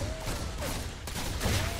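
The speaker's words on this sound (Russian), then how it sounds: "Звук такой классный, это выстрел мне нравится" Rapid bursts of video game gunfire crackle through a dense, busy mix of game sound, loud and close, with several shots clustered together.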